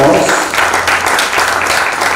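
A seated audience gives the panelists steady, dense applause at a talk event. The clapping is loud and close and stays even for the whole span, with a brief voice at the very start.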